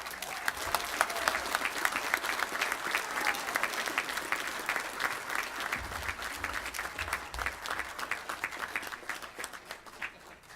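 Audience applause at a football awards banquet, steady dense clapping from a large crowd that holds strong for about ten seconds, with a few faint voices mixed in.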